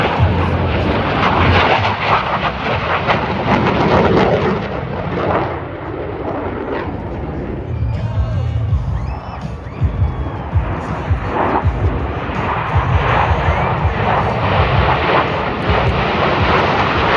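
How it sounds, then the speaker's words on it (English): Aircraft passing overhead at an airshow in McMinnville, Oregon, a loud sustained engine roar that swells, dips briefly midway and surges again, with crowd noise and a voice talking over it. "Aircraft 360 degrees crossing center point."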